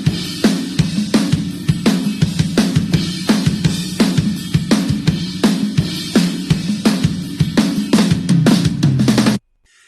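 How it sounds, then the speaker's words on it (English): A clean drum kit plays a steady solo sampled at 44.1 kHz: punchy kicks, snare hits and cymbal crashes in a driving rhythm, close and loud, stopping abruptly near the end. "As we can hear, we have a clean drum solo sample."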